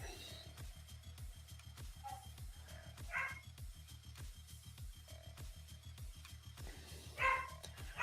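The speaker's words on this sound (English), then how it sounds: "I'm sorry about the dogs barking in the background." Dogs bark a few times in the background, distant and fairly faint, under a steady low rhythmic thumping from music that runs throughout.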